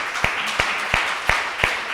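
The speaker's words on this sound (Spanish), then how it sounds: "den un aplauso a Él" A church congregation claps in unison during a worship service, five sharp, evenly spaced claps about a third of a second apart over a steady background hum, with no talking.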